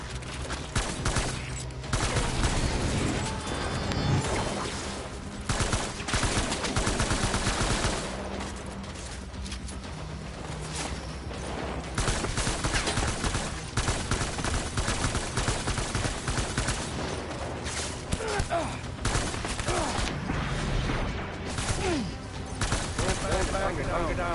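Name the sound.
gunfire from a video game (Death Stranding)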